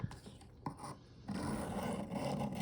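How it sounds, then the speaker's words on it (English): A Work Sharp sharpening stone is dragged along a knife blade with a burr, giving a few short scrapes followed by a sustained, louder rasping stroke, close up. "it's a lot harder to drag this stone down the blade"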